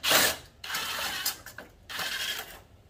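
Old rusty screws are worked out of a 1989 Chevy S10 headlight, giving a close mechanical ratcheting whir in two bursts with a short pause between them, with no talk over it.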